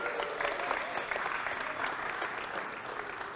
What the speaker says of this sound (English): A round of applause for Dr. Katie Mack